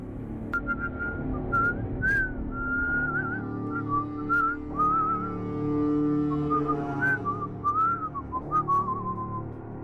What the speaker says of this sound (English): I heard the whistling.